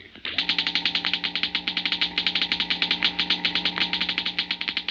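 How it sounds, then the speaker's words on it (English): Rapid, regular electrical crackling from a model atom smasher, a steady stream of sharp snaps over a low constant hum, close and fairly loud. "The crackling comes from a model atom smasher,"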